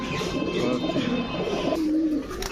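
Pigeons coo repeatedly at a pigeon sale, close and clear, with soft overlapping calls and a little background chatter from the market.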